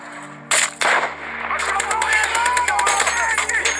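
Gunfire in the war film Fury: sharp loud shots crack out, then a dense stream of rapid bursts and battle noise runs under raised voices.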